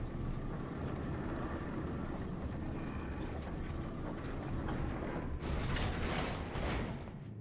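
Elevator machinery in Final Fantasy XIV grinds and creaks steadily, a continuous mechanical rumble with a brighter whirring swell near the end, heard alone without talk.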